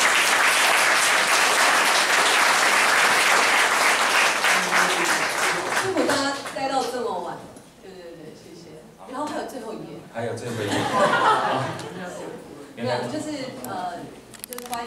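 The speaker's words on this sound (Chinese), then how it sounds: "我们再一次哦，再一次热烈掌声" A live event audience claps loudly and continuously at first, then the applause thins out as a person begins speaking over the remaining scattered claps.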